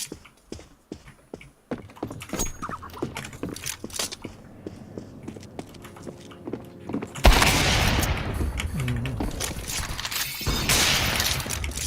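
Rapid gunfire from Counter Strike 2 in a match, crouched between a barrier and a post: sharp repeated shots and clicks at first, then a dense, loud sustained burst of firing filling the second half.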